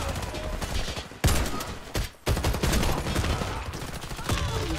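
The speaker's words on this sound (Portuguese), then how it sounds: "é muita coisa explodindo, é muito tiroteio, é muito papapá" Dense Warface gunfire and explosions rattle almost nonstop, heavy bursts layered with sharp blasts and a couple of brief drops, loud and close throughout.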